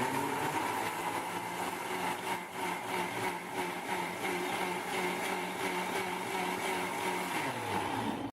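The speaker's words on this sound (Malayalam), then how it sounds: "ഇത് നമ്മളിനി മിക്സിയിൽ അടിക്കാൻ പോകും" A kitchen mixer grinder blends dragon fruit and milk powder into a shake, its steady loud motor whirring and churning without pause throughout, the pitch dropping slightly near the end as it slows.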